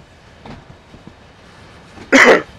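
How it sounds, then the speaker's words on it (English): One sharp, loud cough bursts out near the end, close to the microphone, after a stretch of faint background rumble from a train simulator game tutorial. "Sorry about that, bit of a cough."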